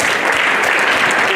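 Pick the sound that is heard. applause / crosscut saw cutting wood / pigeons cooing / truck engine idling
applause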